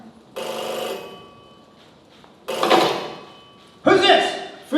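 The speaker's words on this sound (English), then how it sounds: "The phone rang somewhere." An old-fashioned telephone bell rings in three loud bursts, each lasting about a second with short quiet gaps between them, close by and alone.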